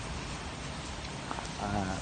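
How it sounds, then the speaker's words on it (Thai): Rain falls as a steady, dense hiss of broadband noise outdoors during a power cut in the afternoon, with faint voices and a few brief sounds near the end. "ฝนตกนะครับ ตกช่วง บ่ายสามโมงกว่า"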